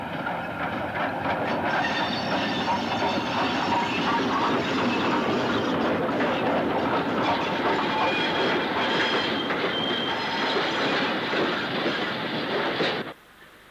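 A steam locomotive, 92073, rumbles past a station platform nearby with a rushing, clattering roar that holds steady for several seconds before dropping away abruptly.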